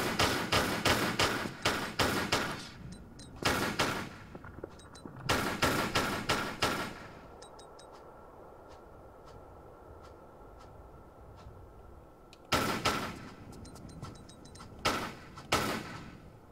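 Bursts of rapid automatic gunfire in Tomb Raider IV inside the Great Hypostyle Hall, loud clustered volleys separated by pauses filled with a low ambient hum and faint scattered clicks.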